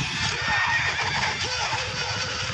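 A cavalry horse in the Langrisser turn-based RPG lets out a loud, close neigh and whinny over a dense game soundtrack.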